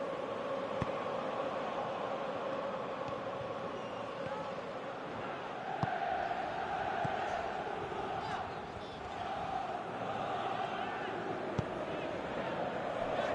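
Stadium crowd in the PES 2019 football video game, a faint, steady murmur and roar that continues throughout beneath commentary.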